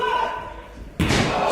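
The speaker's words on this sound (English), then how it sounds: "What a power bomb!" A wrestler is powerbombed onto the ring at an IPW Parade of Champions match. One loud, heavy slam lands abruptly after a second of quieter hall ambience, and a broad, sustained roar of noise follows.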